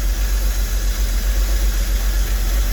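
A 2003 Porsche Boxster that sat unused for over four years idles steadily with a check engine light on, a continuous low engine hum and broadband noise holding at a constant level with no talk.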